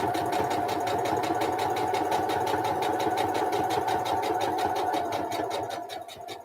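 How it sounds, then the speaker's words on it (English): A sewing machine runs steadily close by with a fast, even mechanical chatter and hum, sewing a quilt block, before slowing and fading near the end. "I'm hoping the shield up muffles some of the noise from my sewing machine."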